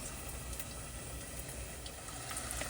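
Homemade breaded pickles frying and browning in hot oil in a pan, a steady, soft, even sizzle with no talking.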